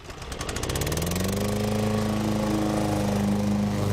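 A lawn mower engine starts up and settles into a steady, close, loud running drone with a rising pitch at first, then holds an even mechanical rumble with no talking.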